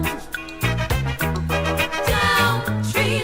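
A reggae song plays, with a steady bass line, rhythmic chords and a busy mix heard clearly with no talk over it.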